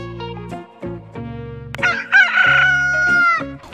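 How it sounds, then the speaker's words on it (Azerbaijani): A rooster crows loudly and close by, a long rising and falling cock-a-doodle-doo, with clucking and other fowl sounds around it. "bir xoruz bəkdən banlayır"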